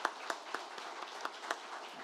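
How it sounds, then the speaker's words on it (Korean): An audience at a Korean Reformed preaching seminar claps in welcome with faint, evenly spaced claps that sound like only a few hands in a room. "우리 한번 환영의 박수를 크게 한번 하도록 하겠습니다"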